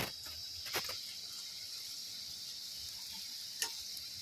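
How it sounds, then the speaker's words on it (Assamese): Jalebi frying in hot oil gives a soft, steady sizzle and hiss, with a couple of brief clicks and no voices. "অকণমান এনেদৰে ৰঙাকৈ ভাজি ল'ব"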